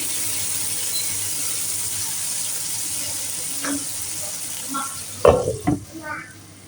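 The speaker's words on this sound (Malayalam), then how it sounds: "തക്കാളിയും കൂടി ഇട്ട് നമ്മളൊന്ന് ഇളക്കുക. ഇച്ചിരി കരിവേപ്പിലയും കൂടി ഇടുക." Tomatoes and curry leaves stirred in a frying pan for fish curry, a steady sizzle with a few louder scraping stirs near the end.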